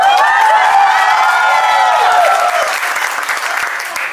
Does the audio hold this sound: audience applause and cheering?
yes